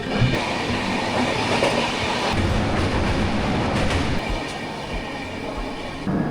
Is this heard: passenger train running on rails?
yes